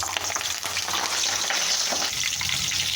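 Curry leaves dropped into hot oil for a tempering while cooking mutton head curry, giving a loud, steady close-up sizzle and crackle that continues throughout without speech.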